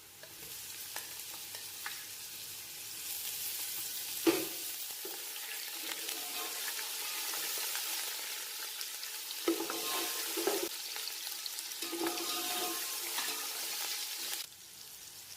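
Ginger frying with golden brown onions in a pan for mutton pulao: continuous close sizzling with occasional spatula scrapes and stirring knocks, dropping off at the end, no talk.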